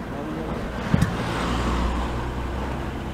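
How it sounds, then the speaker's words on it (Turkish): A Ford Fiesta's engine idling steadily after being started, a continuous broadband rumble close by with a couple of brief knocks near the start. "Kardeşim çalıştı lan araba."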